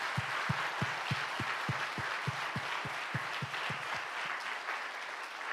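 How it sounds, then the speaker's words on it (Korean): Sustained applause from a worship congregation at a Thursday youth chapel service, a dense wash of many hands clapping, with a few low thumps pulsing steadily underneath throughout. "그렇게 역사하실 하나님께 영광의 박수를 올려드립니다."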